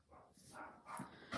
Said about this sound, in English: I apologize if you can hear my dogs barking